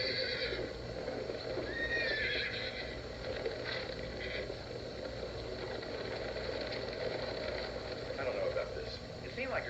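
Horses on the Tevis Cup endurance ride, with repeated whinnies and hoof clip-clop close by, a person talking over them and outdoor ambience around.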